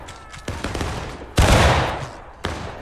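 Gunfire erupts during a video game battle over a flag, a close, loud burst of overlapping rifle shots in several bursts, the heaviest volley in the middle followed by a final crack.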